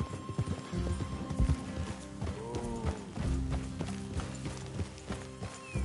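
Horses' hooves clip-clop along steadily in Red Dead Redemption 2, with a brief whinny, creaking wagon-like mechanisms and scattered knocks, all fairly close with no voices.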